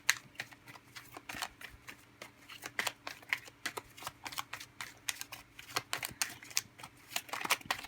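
Tarot cards are shuffled up close in quick rhythmic riffles and snaps that repeat without pause for several seconds.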